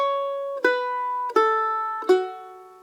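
Four guitar notes are struck with downstrokes in steady quarter notes, each one plucked crisply and ringing out clearly before the next. The playing is close and alone, with no talking.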